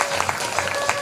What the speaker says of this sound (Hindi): ताली से दादी जी का सब कोई स्वागत करें,